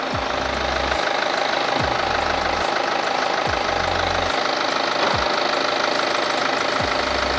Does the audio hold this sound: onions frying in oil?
no